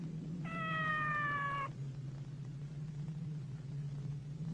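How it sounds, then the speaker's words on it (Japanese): A cat in an animated folk tale from Nagano lets out one long, clear, plaintive meow beside a coffin, heard over a low steady background hum. "五郎右衛門さんの猫が棺桶に体をすり寄せては泣いておりました。"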